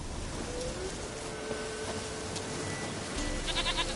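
A goat in the video game The Witcher 3: Wild Hunt bleats several times, clear and close, over a steady outdoor game ambience.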